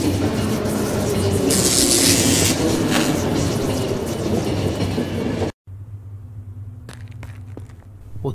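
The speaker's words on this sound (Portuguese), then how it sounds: "O trem parou." A train in the video game The Final Station rumbles loudly with a hissing burst of braking, then cuts to a quieter idling hum with a few metallic clanks once it has stopped.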